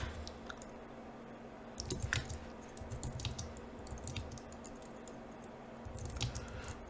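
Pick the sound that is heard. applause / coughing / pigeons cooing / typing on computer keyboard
typing on computer keyboard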